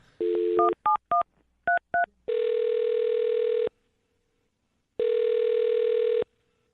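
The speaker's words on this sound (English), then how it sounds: "I'm going to dial her phone number right now" Telephone keypad tones beep as a number is dialed, a quick series of short tones, followed by two long ringback tones on the line.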